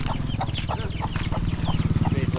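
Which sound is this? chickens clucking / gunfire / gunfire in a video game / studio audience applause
chickens clucking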